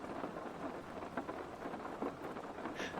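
Steady rain plays as streamed background ambience, a dense continuous hiss with occasional heavier patters and faint rumbles like distant thunder, unbroken throughout with no voices.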